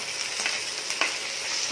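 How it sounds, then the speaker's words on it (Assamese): Peas and beans sizzle steadily in a hot pan for vegetable fried rice, a continuous crackling hiss with a couple of brief stirring clatters. "মটৰখিনি 2-3 মিনিট ভাজি লোৱাৰ পাছত আমি বিনখিনি ইয়াত দি দিলোঁ।"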